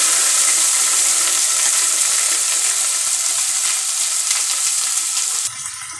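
Ginger paste frying in a pan for a Bengali chicken curry with green peas, a loud, steady broadband sizzle that holds throughout and drops slightly in the last half second.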